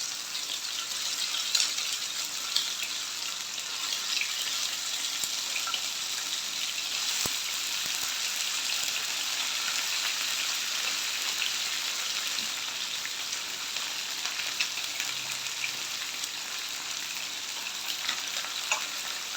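Breaded chicken pieces frying in hot oil, a continuous dense sizzle and crackle with scattered pops, close and steady throughout with no talk.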